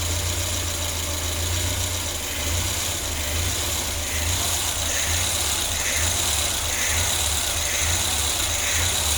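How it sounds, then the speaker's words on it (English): A 1986–1993 Mazda B Series truck engine fitted with Holley Sniper EFI runs at fast idle, a steady close mechanical hum with a slow rhythmic surge in speed, without voices. "So this is fast idle air control speed."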